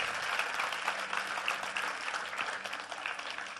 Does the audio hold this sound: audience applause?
yes